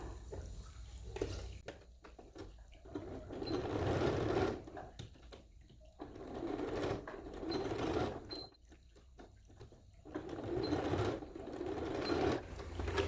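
Sewing machine stitching a short straight seam, a close, rapid mechanical whirring chatter that runs in several bursts of a couple of seconds each, separated by brief pauses, with no talking.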